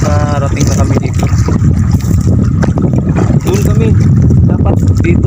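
Strong wind roars and buffets the microphone over big waves rushing around a boat and the boat's rumble, with a voice briefly audible at the start.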